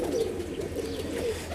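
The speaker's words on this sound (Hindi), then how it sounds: "तो ये कमान पर का कबूतर होता है" A young pigeon of the kind kept by hobbyists gives a soft, low, wavering coo, close and continuous for a moment.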